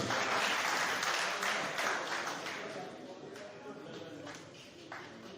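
An assembly at a sports club's electoral general meeting applauds by acclamation: a dense, steady wash of clapping from many hands that fades slightly toward the end.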